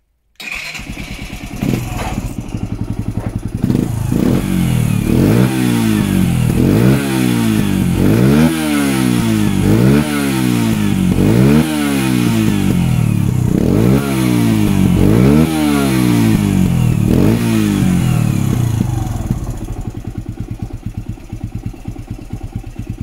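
A Sherco TY 125 trial motorcycle engine with a racing exhaust starts and revs repeatedly in a steady rising-and-falling cycle, loud and close, with a raspy exhaust note before settling to idle.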